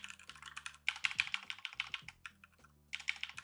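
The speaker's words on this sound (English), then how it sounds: "Do you hear my clacky keyboard?" Clacky mechanical computer keyboard being typed on up close, with rapid irregular bursts of sharp key clicks, a brief pause, then another quick flurry of keystrokes.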